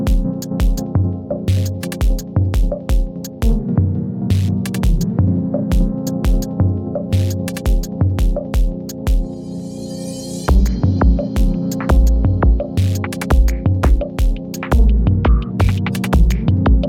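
A repaired arc welding machine switched back on after servicing gives a steady electrical hum with a rhythmic throbbing pulse and repeated clicks and knocks, fairly loud and continuous, with no talking.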